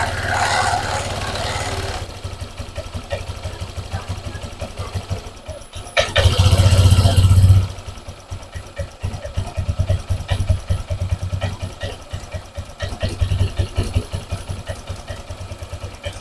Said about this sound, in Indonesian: motornya tetap seperti ini, pasti boros ya, langsamnya tidak stabil